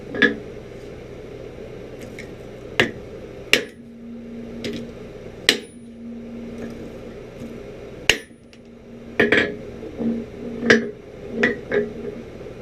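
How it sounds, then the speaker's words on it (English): A flatter is struck on a heated knife blade while forging an 18th-century-style scalping knife, with sharp metallic blows spaced irregularly, some clustered together, and a faint ringing tone between strikes. No one speaks. "You can even put a bend in it by hitting it with this flatter."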